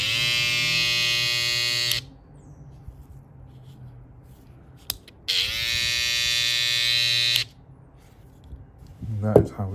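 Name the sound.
barber hair trimmers running after zero gapping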